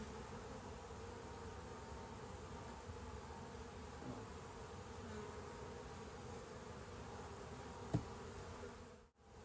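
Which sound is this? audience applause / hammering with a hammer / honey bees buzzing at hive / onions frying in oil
honey bees buzzing at hive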